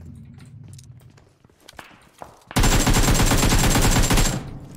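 Automatic AKM rifle fire in PUBG Mobile on the Livik map, a loud sustained burst of rapid shots about two seconds long following quieter footsteps and movement.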